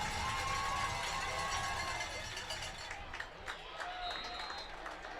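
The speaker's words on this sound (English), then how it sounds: "the Rockets fans getting loud here" A high school football crowd of Rockets fans cheers and claps from the bleachers in a dense, loud roar that eases slightly toward the end, with some voices mixed in.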